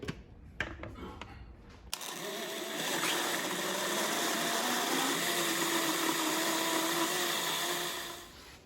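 A kitchen blender whirs loud and steady for about six seconds, pulverising poblano peppers, a garlic clove and cream cheese, after a few short clicks and clunks as it starts.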